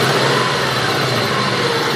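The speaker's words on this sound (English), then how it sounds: "There's a little bit of a lifter tick in my opinion, or some kind of valve noise, especially with a little RPM increase." A Subaru EJ22 engine idles loud and close with a steady, even drone; any lifter or valve tick is not clearly picked out from the continuous running note.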